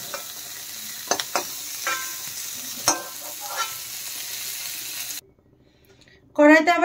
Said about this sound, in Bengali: দেখেন ফুলকপিগুলো ভাজা হয়ে গেছে, হালকা করে ভেজে নিয়েছি